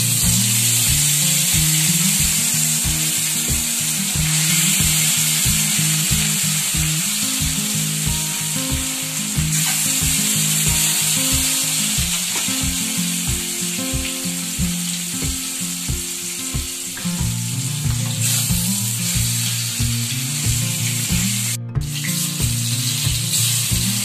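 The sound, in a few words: fish frying in oil with salt and turmeric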